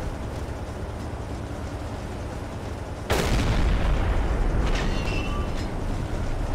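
A U-boat's deck gun fires at a British ship in Silent Hunter 3: one loud, sudden boom over steady sea and engine rumble, followed by a rolling roar and faint whistling debris.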